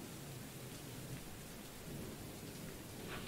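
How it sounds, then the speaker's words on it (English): Rain and thunder in the video game Choo-Choo Charles, a faint steady hiss of rainfall with a low distant rumble underneath and no voices. "I like it when it rains in games, you know?"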